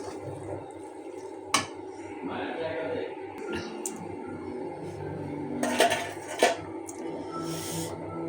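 Utensils clink and scrape against dishes as cooked noodles are served, with a few sharp clatters over a low background murmur.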